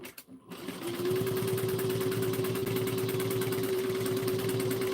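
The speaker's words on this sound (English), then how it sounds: "I'm going to sew the bottom first." A sewing machine stitches fabric, starting after a brief pause and then running steadily and loudly with a fast, even mechanical whir and rapid needle clatter for several seconds.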